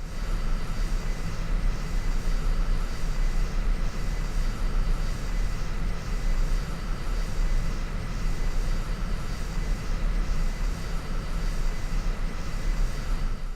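A steady, continuous aircraft engine drone from a jet taxiing on the ground in the video game Energy Airforce aimStrike, loud and unbroken, heard alone throughout.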